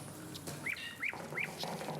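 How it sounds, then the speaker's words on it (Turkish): A Bursa nightingale sings three short, bright rising whistled notes in quick succession over a faint background hum, quiet and somewhat distant. "Arap, aslında bu garibe Bursa Bey bülbülü dinleteceksin."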